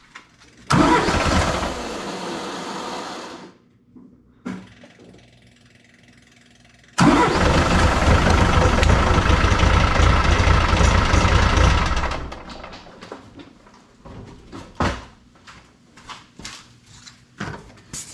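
A Branson 3725h compact diesel tractor cranks and catches, runs loud and rough for a few seconds, goes quiet, then cranks again into a longer loud run before settling to a softer idle with clicks and knocks nearby.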